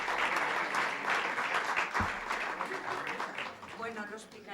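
Audience applause at a book presentation event, steady broadband clapping throughout, briefly punctuated by a low thump near the middle, with voices mixed in and fading toward the end.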